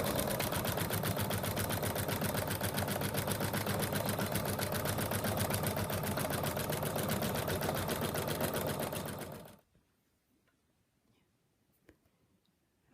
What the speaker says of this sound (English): Now we're going to stitch out the last color.